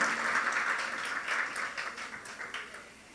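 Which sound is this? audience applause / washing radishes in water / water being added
audience applause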